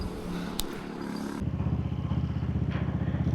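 A motorcycle is ridden on the road from Manila's BGC toward Quezon and Marilaque. Wind rumble and clatter give way to a steady, pulsing engine drone close up, loud and continuous, with no talking.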